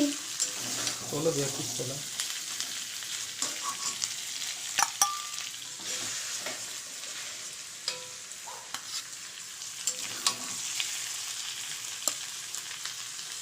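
Chicken coated with coriander powder is stir-fried in a pan for a coriander chicken dish. A soft, steady sizzle runs throughout, broken by sharp clicks and scrapes of the spoon against the pan, with a brief voice near the start.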